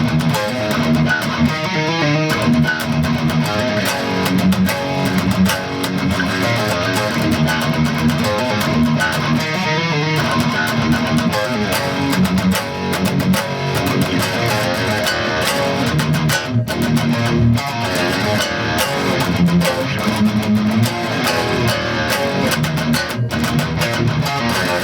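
Heavy distorted electric guitar plays the bridge riff of a song, with a dense, loud, continuous chugging tone and steady rhythmic palm-muted patterns that run throughout, with no talking.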